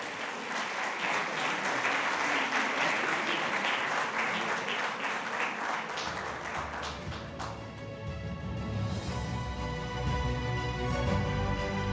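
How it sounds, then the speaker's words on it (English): Loud audience applause at a professional chapter session for a guest speaker, steady clapping from a crowd for about six seconds that gives way to music as the clapping continues underneath. "Can I have a big round of applause, please?"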